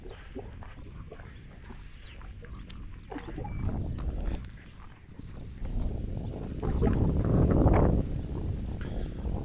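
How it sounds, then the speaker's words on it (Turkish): Gusty wind buffets the microphone in low rumbling bursts while walking a dog outdoors, swelling louder toward the end, with faint outdoor sounds beneath. "Bu arada biraz rüzgar var arkadaşlar."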